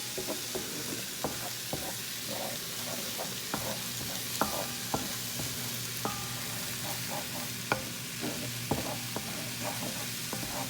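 A flat-sided teak wooden spoon scrapes eggs off the bottom of a wok while quinoa fried rice with shrimp is stir-fried. Irregular scraping and clacking strokes land over a steady, close sizzle.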